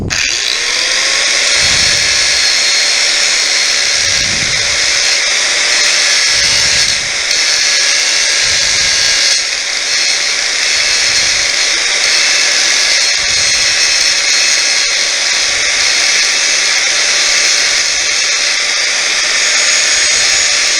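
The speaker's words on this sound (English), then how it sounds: "Mark the link I want to cut by grinding into it." An angle grinder notching into a link of a motorcycle drive chain on a 1989 Kawasaki KX250, a sustained high whining grind held steady for about twenty seconds, loud and close, with faint low thumps recurring underneath.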